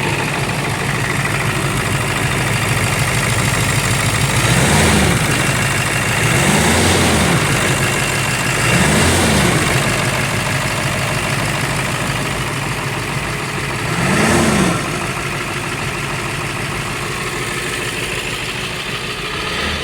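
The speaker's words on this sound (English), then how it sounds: "I can't hear you, dude. Loud diesel." A diesel truck with rusty manifolds and an exhaust leak idles loudly and steadily up close, with a deep constant rumble and a few brief swells in engine note.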